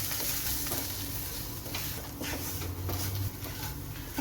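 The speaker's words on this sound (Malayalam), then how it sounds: "ഇനി ഇവയുടെ എല്ലാം പച്ചമണം മാറുന്നത് വരെ നമുക്കൊന്ന് ഇളക്കി കൊടുക്കാം" Ground coriander and masala powders being stirred in a hot pan, a soft steady sizzle with light scraping of the spoon, close and continuous with no talking.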